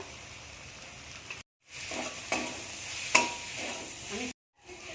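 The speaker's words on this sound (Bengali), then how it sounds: "এই দেখুন আমার ভাজতে ভাজতেই সব কিছু সেদ্ধ হয়ে গেছে" Spices sizzle in hot oil with fenugreek greens, eggplant and tangra fish, a steady frying hiss broken by stirring scrapes and two brief gaps.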